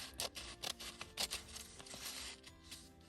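Scissors trimming a page from a 12x12 paper pad for a junk journal, quick soft snips and paper rustle, close and quiet, with no voices.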